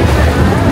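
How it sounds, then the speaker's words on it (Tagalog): A motorboat runs at the Damnoen Saduak floating market in Thailand: a loud, close, steady engine drone mixed with heavy wind buffeting and water noise. "Ito sa atin motor. Motorboat yung amin."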